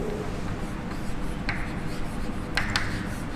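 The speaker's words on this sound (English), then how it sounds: "Let me write on the board." Chalk or marker writing on a classroom board during a chemistry lecture, continuous scratchy strokes with a few sharper squeaks, heard over a steady room hum.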